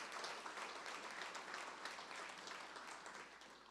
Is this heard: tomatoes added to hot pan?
no